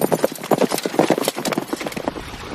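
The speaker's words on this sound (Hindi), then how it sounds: "इसके बाद अंतेनाग और सम्राट बिंबिसार घोड़े पर बैठकर निकल गए।" Horse hooves clip-clop in a quick, steady trot as an emperor and companion ride off on horseback, loud and close with a slightly hollow, echoing quality and no talk over it.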